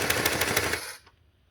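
A gun fires a fast burst of about six rapid shots as the trigger is pressed, loud and close, then cuts off sharply into near silence.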